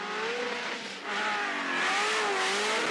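A BMW drift car at a Formula Drift qualifying round in Atlanta, engine revving loud and steady as it slides through a course, with a brief dip before the engine note climbs again and tires hiss underneath.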